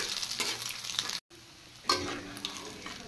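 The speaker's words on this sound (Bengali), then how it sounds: "আদা আর তেজপাতা একটু ফ্রাই করে নিয়ে" Ginger and bay leaves frying in a pan with oil, a soft continuous sizzle broken by a brief silence, then a louder burst of hissing as more goes in.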